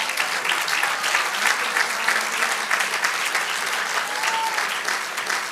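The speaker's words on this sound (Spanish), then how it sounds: "Denle un aplauso al Señor." A church congregation applauds during a sermon, a continuous loud wash of clapping from many hands with faint voices mixed into the crowd.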